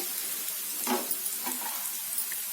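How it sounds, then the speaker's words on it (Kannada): Onions frying in ghee over a medium flame for a baby potato gravy: a soft, steady sizzle up close, broken by a couple of light stirring scrapes. "ಒಂದು ಅರ್ಧ ನಿಮಿಷದಷ್ಟು ಮೀಡಿಯಂ ಫ್ಲೇಮ್ನಲ್ಲಿ ಫ್ರೈ ಮಾಡ್ಕೊಳ್ಳಿ"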